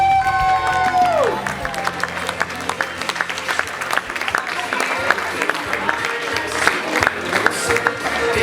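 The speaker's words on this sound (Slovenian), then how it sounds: "Lahko nam date še en aplavz." Sustained applause from an audience at an evening celebration show in Slovenia, dense and steady clapping with scattered cheers, loud and close throughout after a fading musical tone at the start.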